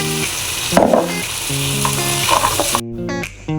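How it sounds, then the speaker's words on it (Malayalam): Loud, steady sizzling of paneer butter masala frying in a hot pan, with spoon scrapes as it is stirred and some music in the background. "നന്നായിട്ട് മിക്സ് ചെയ്ത് നന്നായിട്ട് ഇളക്കാം"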